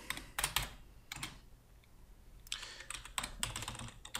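Quick bursts of close computer keyboard typing in short clustered runs of clicks, separated by a brief quiet gap, with no talking over them.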